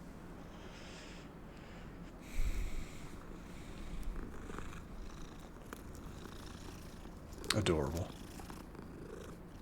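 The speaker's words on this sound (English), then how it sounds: "I can pet the cat." A cat being petted in the Hogwarts Legacy video game purrs in a steady, soft, continuous rumble, with one person speaking briefly over it.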